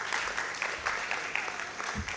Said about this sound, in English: Can we clap for Dr. Maurice Dimok?